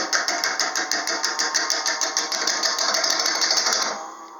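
A bowl gouge cutting a spinning wooden bowl on a lathe, held level on the tool rest: a loud, close, rapid rhythmic chattering cut that stops abruptly near the end, leaving a faint hum.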